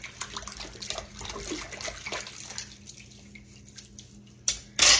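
Water runs and splashes in a kitchen sink as dishes are rinsed, giving an uneven, close spatter that thins out partway through. A couple of sharper bursts of splashing come near the end.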